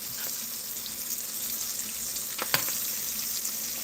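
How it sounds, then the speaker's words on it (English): Sliced onions browning in a hot pan give off a dense, even sizzle, with a couple of brief scrapes of stirring partway through, close up and without speech. "And they fry quick, the onions."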